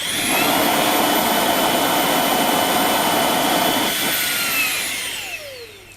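A HiKOKI RA18DA cordless mini blower runs at full speed with a loud, steady high-pitched whine and rushing air, then spins down and fades near the end.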